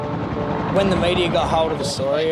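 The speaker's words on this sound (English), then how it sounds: "That's the helicopter." A helicopter hovers over a closed Australian beach, its steady rotor drone loud and continuous beneath a narrator's voice.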